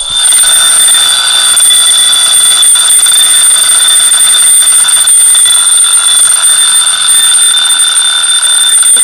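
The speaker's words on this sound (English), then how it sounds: "You actually wind it up, and then when it goes off," A mechanical wind-up alarm clock rings loudly and continuously, a harsh metallic bell clatter that holds at full volume without pause from start to finish.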